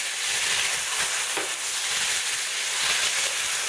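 Diced tomatoes hitting a hot pan with oregano and garlic, a steady loud broadband sizzle that holds throughout with slight crackling swells, close and without talk.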